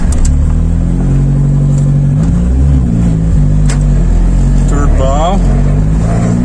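A turbocharged car engine idles and revs up close with a deep, steady drone, its pitch rising and falling in short pulls, while someone talks over it.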